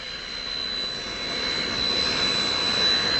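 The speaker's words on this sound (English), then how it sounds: "they travel with their own jet, waiting at the airport" A jet aircraft at Tampa International Airport gives a steady loud roar with a high whine on top, slowly swelling through the moment, with no voices.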